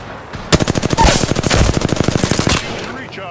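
Rapid automatic gunfire in Apex Legends, a loud close burst of evenly spaced shots lasting about two seconds before cutting off.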